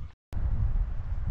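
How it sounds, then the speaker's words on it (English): Gusty wind at a lakeside campsite buffets the microphone as a deep, rough roar. It cuts out briefly and then rushes back, steady and close. "So the wind has really picked up since we got off the lake this afternoon. It's really gusty right now."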